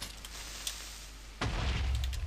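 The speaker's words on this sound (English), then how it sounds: "he had an explosion with that creeper" A creeper blows up in Minecraft: a sudden low boom that swells into a sustained rumble after a stretch of quieter game ambience.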